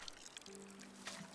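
Water pours onto a freshly potted plant in a puzzle video game, a short soft trickle with a faint tonal hum, heard alone.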